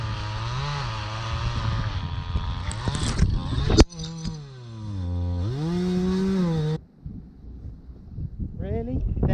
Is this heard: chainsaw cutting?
yes